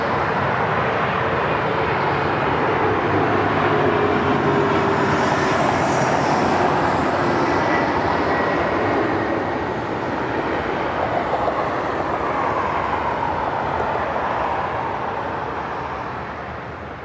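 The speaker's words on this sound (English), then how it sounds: "So as Southwest taxis out, we'll grab the CRJ that's inbound." Steady, loud jet engine roar from airliners taxiing and arriving at Cleveland Hopkins airport, a broad rushing drone that holds throughout and fades slightly toward the end.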